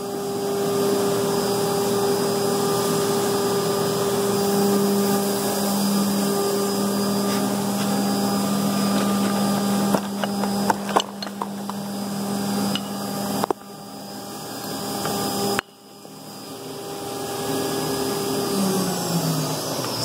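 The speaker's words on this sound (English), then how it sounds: "running some parts in the mill here" A milling machine runs steadily while cutting parts for a VW 1.8t 20v engine build, giving a loud, continuous whine with steady tones, broken by a few clunks and brief changes in the cut.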